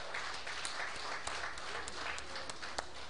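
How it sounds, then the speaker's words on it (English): An audience at an awards ceremony keeps up a steady, fairly distant applause, dense clapping that holds at an even level from start to finish. "Please give them a round of applause"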